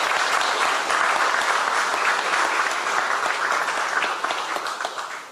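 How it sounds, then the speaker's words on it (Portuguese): Strong applause at a sports awards press conference, dense continuous clapping from a crowd that stays full and even for several seconds, then begins to thin toward the end. "Un fuerte aplauso."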